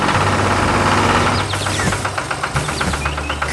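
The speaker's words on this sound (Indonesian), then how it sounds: "Traktor hijau bekerja di tengah sawah" A loud tractor engine chugs close by with a rough, knocking rhythm, its pulses becoming more distinct in the second half.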